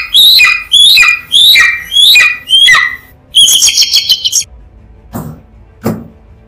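A jungle bird calls loudly on an island, five sharp descending cries in quick succession, then a rapid burst of harsh squawking, followed by a couple of dull thumps in a quieter background.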